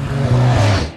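A Koenigsegg Agera supercar engine rises in a short, loud rev, a deep tonal roar climbing and settling within about a second, heard alone without talk.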